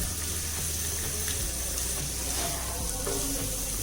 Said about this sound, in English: Keep it in high flame and fry it for 1 minute